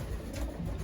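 Racing pigeons of Husken Van Riels and Janssen bloodlines coo in a loft, a soft, low, throaty murmuring close by, brief and continuous with no voices.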